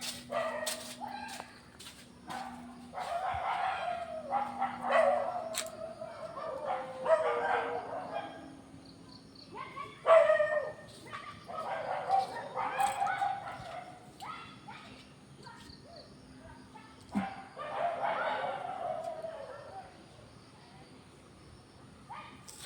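Dogs bark and yip at a cat in scattered bursts throughout at a home in Kerala, mixed with people talking nearby and some whimpering.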